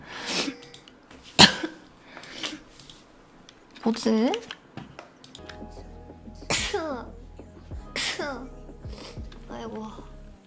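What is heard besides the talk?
repeated sneezing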